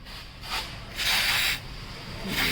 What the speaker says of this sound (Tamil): இது டீரஸ்ட் ஸ்ப்ரே, இதை அடித்து நம்ம க்ளீன் பண்ணிப்போம்